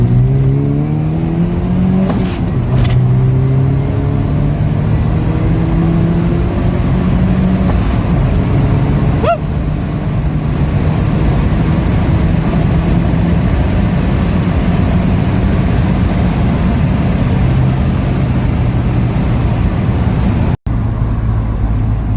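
A turbocharged 2.7-litre 3RZ four-cylinder in a Toyota Hilux mini truck, running a GTX3076 turbo on a stock bottom end, revs loud and close, its pitch climbing and dropping early, then holds a steady heavy drone.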